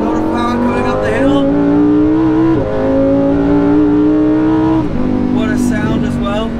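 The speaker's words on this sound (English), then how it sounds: "A lot of power going up the hill." Lamborghini Huracan Super Trofeo race car powering uphill on a track, its engine note rising steadily in pitch through two gear pulls with brief shift breaks, loud and close throughout, with a voice talking over it.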